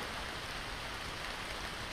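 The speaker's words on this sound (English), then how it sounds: "Rain, rain, and more rain." Steady rain falling in a mangrove jungle during a fishing trip, a continuous even hiss of drops without pauses, close and moderately quiet, with no talking.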